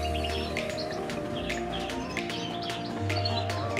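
Goldfinch chicks (jilguero major) in a breeding cage chirp in quick, high twittering bursts over a steady low hum, fairly close and continuous throughout.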